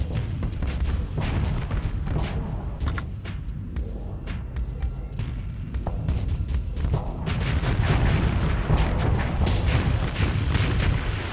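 A Gauss cannon fires in the space combat game Starsector amid heavy battle noise, with repeated deep booming impacts and crackling bursts layered over a continuous loud rumble.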